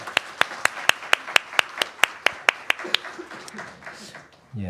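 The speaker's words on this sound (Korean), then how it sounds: "박수로 격려해 주시고요." A church congregation claps in encouragement during a deacon appointment service, a loud, evenly spaced rhythmic beat of about a dozen claps in unison that loosens and fades before a voice begins.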